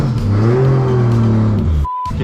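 A car with a JZ engine revs under load, a loud steady engine drone that rises and falls in pitch. A sharp cut near the end is followed by a brief high tone.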